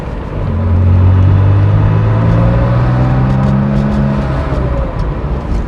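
A 1977 Porsche 911 S engine pulling steadily while driving, a smooth continuous drone that swells and holds with rising pitch, heard from inside the car with no talking.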